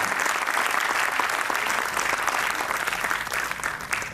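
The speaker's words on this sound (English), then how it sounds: "Come on, audience, let's give her a round of applause" A crowd at an award ceremony gives a steady, full round of applause, dense and loud throughout with no letup.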